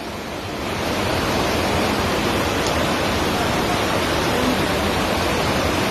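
Floodwater rushes through a school building after a landslide in Wayanad, Kerala, during heavy rain, a loud, steady broadband roar of torrent that swells in over the first second and then holds unbroken, with no voices.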